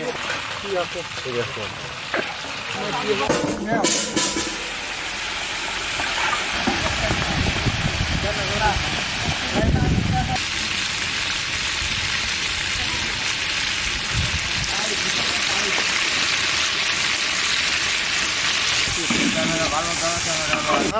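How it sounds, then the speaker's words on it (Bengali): Chicken roast frying in a pan while chicken pulao and zarda pulao are being cooked, giving a steady crackling sizzle through the whole stretch, with a voice talking over it at times. "আমার রোজটা ভাজা আগে এখন তুলে ফেলবো"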